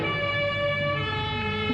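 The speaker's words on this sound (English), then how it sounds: "there's an ambulance on the special stage" An ambulance siren wails steadily on a rally special stage during the 1991 International 3 Städte Rallye, a sustained tonal emergency siren heard at moderate distance over vehicle rumble.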